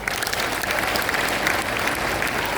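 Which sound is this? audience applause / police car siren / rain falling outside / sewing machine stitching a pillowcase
audience applause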